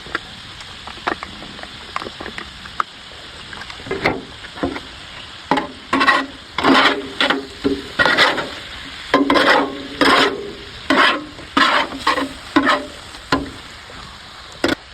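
Butter and garlic sizzle on a hibachi grill, broken by repeated rhythmic scraping and stirring strokes of a spatula that grow louder and more regular toward the end.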